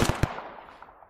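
An AK rifle fires in the ARMA 3 video game: a quick, loud burst of three close shots, then a fading echo tail.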